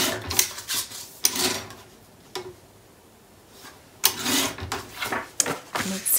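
Paper being trimmed for a mini album on a small paper trimmer: close, fairly loud sliding and rasping cuts in a few bursts, separated by pauses and quieter handling.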